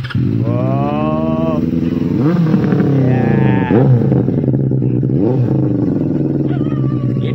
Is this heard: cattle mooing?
no